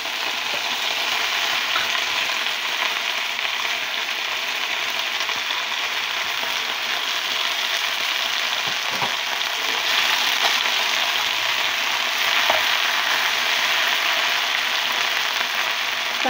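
Washed jute leaves fry in hot oil with already browned onion, garlic and dried chili, giving a loud, steady, close sizzle that holds unbroken throughout, with faint stirring and no voices.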